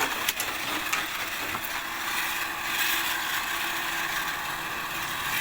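A water pump motor running steadily with a gritty, sand-like rasp, a continuous close mechanical whir with faint ticking, fairly constant in level throughout.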